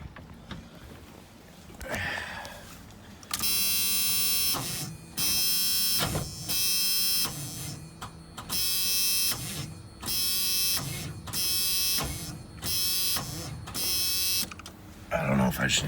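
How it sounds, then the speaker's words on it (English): An auction vehicle's starter motor whirs in repeated bursts of about a second each, loud and close, as it struggles to turn the engine over without it catching. "The starter is trying to turn it."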